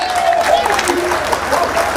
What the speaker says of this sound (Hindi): एक बार जोरदार ताली बजा के मेरी हौसला अफजाई करना।